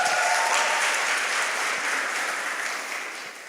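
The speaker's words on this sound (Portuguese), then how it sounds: "Pode aplaudir a Deus por isso?" Church congregation bursting into loud, dense applause that holds steady and then starts fading toward the end, no voices above it.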